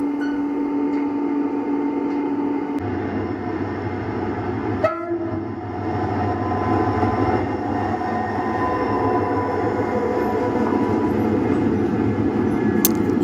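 A freight train of car-carrier wagons rolls past at Medina del Campo, a continuous loud rumble and clatter of wheels on rails lasting throughout, with a sharp metallic bang midway and steady grinding drone.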